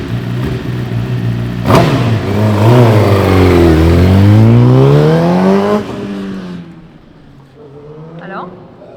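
An endurance race car at Paul Ricard accelerates hard, its engine climbing through the gears in a loud rising roar and then fading into the distance, with a voice heard near the end.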